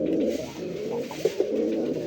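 Close pigeon cooing runs continuously in low, throaty rolling phrases, with two brief sharper notes near the end over a steady background hum.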